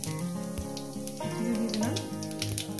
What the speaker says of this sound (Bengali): তেল গরম হয়ে গেছে, দিয়ে দেবো জিরে